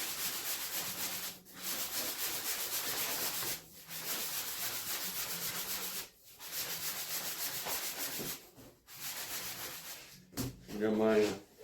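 Factory finish being sanded off a sheet of plywood: steady, close rasping strokes in long runs broken by brief pauses, with a short voice at the very end.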